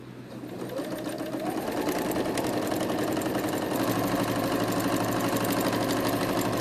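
A sewing machine stitching fabric pieces for a pink shark pencil case, a close, continuous rapid mechanical whir that picks up speed and holds steady.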